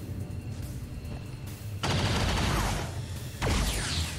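Automatic weapons fire in the video game XCOM 2 rattles in heavy bursts, with a sharp loud volley crashing in midway and another near the end over a constant background din.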